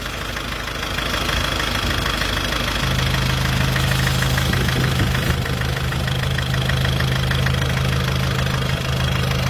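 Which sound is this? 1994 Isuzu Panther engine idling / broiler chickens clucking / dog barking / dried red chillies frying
1994 Isuzu Panther engine idling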